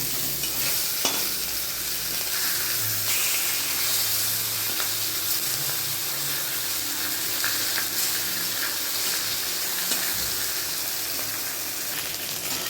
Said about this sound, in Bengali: মাছটা একটু ভাজা হয়ে গেছে, এবার এটা উল্টে দেবো